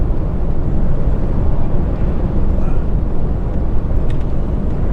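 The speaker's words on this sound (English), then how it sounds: "I can hear a jet, but obviously by the time you've heard it, it's long gone on it." Jet aircraft flying overhead near RAF Lakenheath in Norfolk, a loud broad steady roar filling the whole stretch without break, no talking over it.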